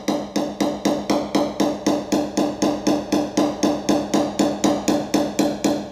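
Steady rhythmic hammer taps on a car body panel during paintless dent repair using hot glue and suction cups, about four blows per second, close and loud with no talk.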